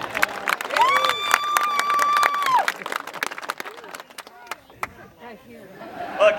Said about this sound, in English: Some cheering for the Second Amendment.